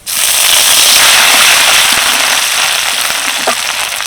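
Dry chilli, cinnamon, cloves, cumin, crushed ginger and green chilli sizzle in hot oil as a tempering for a vegetarian bottle gourd dish, giving a loud, steady crackling hiss that runs the whole time with no talk.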